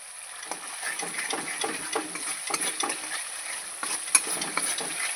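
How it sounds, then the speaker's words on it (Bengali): Spices stirred and fried in a pan for a home-style milk and paneer dish, a steady soft sizzle with scraping stir strokes throughout, close and moderately quiet, with no talking. "একটু ভালোভাবে নেড়ে চেড়ে নিতে হবে।"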